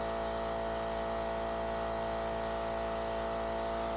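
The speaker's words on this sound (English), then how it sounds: "You'll see if you spray it on a tissue, it's not a lot of makeup that's coming out" A Temptu airbrush sprays makeup onto a tissue, giving a continuous, even hiss of air over a steady mechanical compressor hum, close and unbroken throughout.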